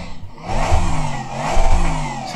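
A sim racing video game car engine played through BenQ EX3210R monitor speakers revs up from idle, rising and falling in a thin, steady drone.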